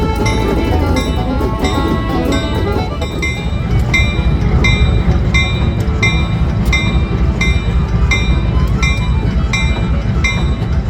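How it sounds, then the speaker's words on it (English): Heritage Railroad locomotive 9553 sits idling at a nuclear enrichment site, its engine giving a loud, steady, throbbing drone, with faint metallic clinks and ticks recurring on top and no voices. "we found the Heritage Railroad's 9553 at idle, with Wade preparing it for the night's swit"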